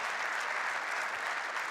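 Steady applause from a crowd at the men's singles final of the 2016 Polish Open table tennis, a dense, continuous clapping that fills the whole moment without a break.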